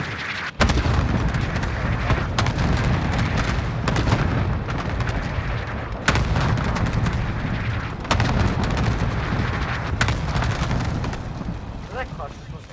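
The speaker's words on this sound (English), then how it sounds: "Call for fire. Target's marked." Artillery strike explosions in Call of Duty Warzone, a run of loud deep booms at roughly two-second intervals over a dense, continuous rumble of battle noise.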